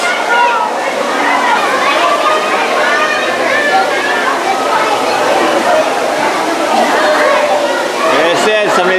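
Inside the North Carolina Aquarium at Pine Knoll Shores, children shout and chatter loudly and constantly, their voices mixing with the splash and rush of water from a nearby exhibit.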